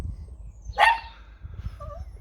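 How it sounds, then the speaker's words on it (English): Dogs at a campsite let out one sharp, loud bark, then a couple of fainter yips and whines a moment later over quiet outdoor background. "Oh, we got dog fights."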